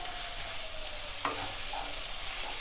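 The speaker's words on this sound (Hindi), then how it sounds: "2 से 3 मिनट लगातार चलाते हुए भूनेंगे" Spice masala for Punjabi rajma being roasted on low to medium flame, a soft continuous frying hiss with one brief spoon clink against the pan and faint stirring scrapes, no voices.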